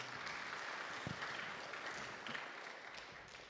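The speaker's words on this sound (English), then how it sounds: "Please give Vyasya another round of applause." Audience applause at the close of a Bhagavat katha night, a soft, steady patter of many hands heard at a distance and sustained throughout.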